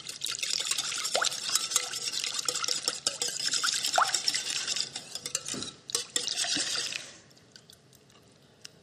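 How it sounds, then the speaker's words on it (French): Eggs and sugar for a yuzu curd tart being whisked in a bowl, a rapid, continuous wet clicking and swishing close up that stops abruptly near the end and leaves quiet. "On va battre le petit mélange"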